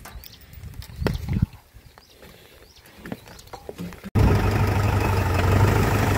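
A tractor engine idles with a loud, steady low rumble that starts abruptly partway through. Before it are faint outdoor knocks and rustles.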